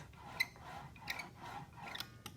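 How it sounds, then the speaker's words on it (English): Printmaking brayer rolling back and forth over too thin a layer of ink in a classroom: a quiet, dry, rhythmic scraping and rasping, close up, with a few soft crackles on each pass. "then that means there is not enough ink."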